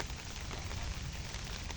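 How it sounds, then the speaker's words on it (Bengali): Steady rain patters on a village road, a soft, even hiss of drops with no talking. "বৃষ্টি শুরু হয়ে গেল"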